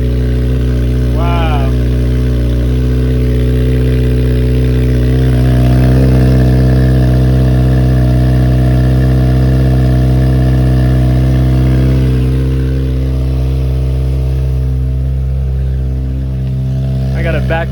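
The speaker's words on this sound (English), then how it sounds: "It's so loud, even with the silencer on." Kawasaki Ninja ZX6R motorcycle engine idling steadily through an M4 Street Slayer slip-on exhaust with its silencer fitted, a loud, close, continuous rumble that holds throughout with a slight rise partway.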